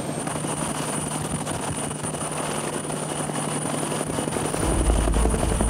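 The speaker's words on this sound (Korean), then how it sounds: "AW-159, 일명 와일드캣이라 불리는 헬기입니다." An AW-159 Wildcat maritime helicopter lands on a naval ship at sea, its rotor beating as a constant loud whine and thrum that swells toward the end as it nears the deck.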